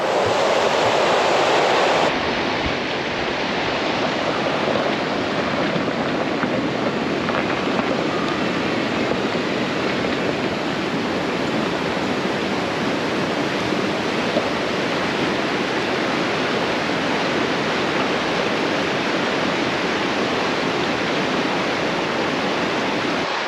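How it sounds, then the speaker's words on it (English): Two large waterfalls pour into each other at Devil's Punch Bowl near Schofield Pass, Colorado, making a loud, steady roar of rushing water that fills the whole stretch without talk. "with 2 big waterfalls going into each other"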